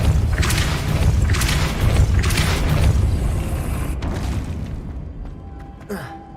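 Depulso spell cast in the video game Hogwarts Legacy: a loud, rumbling magical blast with heavy low boom and swelling bursts, fading out over several seconds into a soft whooshing tail.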